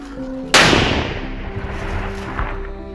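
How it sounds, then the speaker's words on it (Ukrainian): A single loud blast bursts out suddenly, then a long rumbling decay fades over the next couple of seconds, with no voices. "Вибух."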